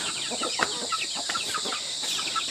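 Desi aseel chickens and a rooster cluck softly in a home courtyard, with scattered short clucks and calls over a steady background hiss, fairly faint and with no talking.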